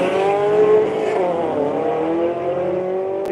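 A Toyota PE Motorsports drag car and a Camaro at a drag strip roar steadily at full power, loud and continuous, with a hint of tire noise.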